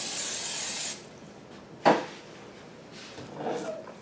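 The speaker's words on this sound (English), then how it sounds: "I'm going to spray the pan with a non-stick cooking spray." Non-stick cooking spray hisses into a pan in one short, sharp burst near the middle, with a louder steady hiss at the start and quieter kitchen sounds afterward.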